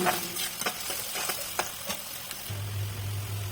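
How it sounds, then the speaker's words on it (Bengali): Chopped onions fry in about 250 grams of hot soybean oil for beef tehari, a steady close sizzle broken by several sharp stirring scrapes, ending with a low steady hum; no speech. "ওখানে আমি আড়াইশো গ্রাম সয়াবিন তেল দিয়ে দিলাম দিয়ে তেল গরম হয়ে আসলে দিয়ে দিলাম পেঁয়াজ কুচি পেঁয়াজ কুচি ভালো করে ব্রাউন করে ভেজে নেব"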